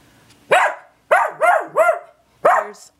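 A beagle barks loudly and close by at a dog it sees in a window, five sharp barks in two bursts, three of them in quick succession, with no one talking.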